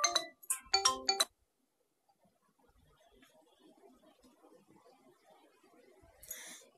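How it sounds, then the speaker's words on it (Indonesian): A mobile phone ringtone plays in a short burst of bright repeated tones at the start, fairly close, then stops; quiet rustling and low sounds follow, with a brief hiss near the end. "Ini HP sebentar."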